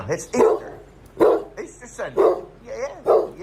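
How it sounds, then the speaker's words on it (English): A dog barks in short, repeated bursts indoors, about five sharp barks spaced roughly evenly, mixed with people talking close by. "Who you barking at?"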